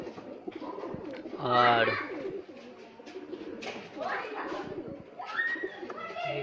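Pigeons coo in soft, rounded bursts from a newly acquired breeding pair, heard close by at intervals, with someone speaking in Hindi between and over the calls.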